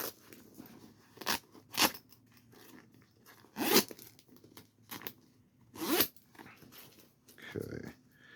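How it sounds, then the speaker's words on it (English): A plastic zipper on a Turkish Air Force camo parka, worked in several short rasping pulls with rustling fabric between them, close and fairly loud, with a person talking around the handling. "Plastic zipper."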